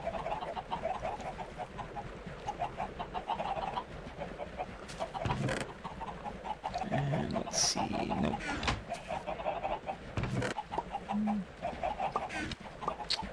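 Chickens on a Minecraft chicken farm cluck in scattered, overlapping calls over a busy game background, moderately loud, with a voice talking at times.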